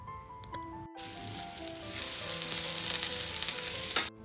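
Dhapate flatbread frying in oil on a covered pan gives a steady, close sizzle that starts abruptly after a short quiet pause and holds evenly until it cuts off near the end.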